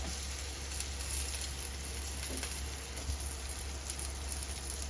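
Salt-grilled salmon sizzles on a grill in Japan, a steady close crackle and hiss with fine popping throughout and no voices.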